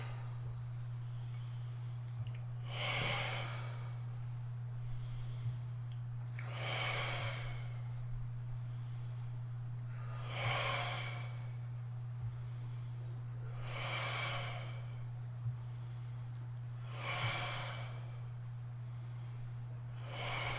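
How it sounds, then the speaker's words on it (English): Slow qigong breathing during a morning silk reeling session: about six drawn-out breaths, in and out, evenly spaced every few seconds, soft and close, over a steady low electrical hum, with no talking. "When you're bringing the energy in, you breathe in"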